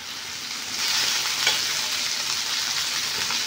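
Fish masala fry frying in coconut oil, a dense, steady sizzle that swells slightly after the first second and holds evenly, close and fairly loud with an occasional faint scrape.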